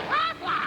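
A duck in an Aflac insurance commercial gives two loud, close nasal quacks in quick succession, alone without talk.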